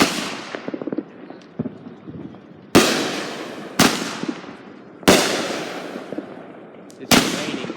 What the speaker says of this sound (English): Today we're gonna be lighting some fireworks.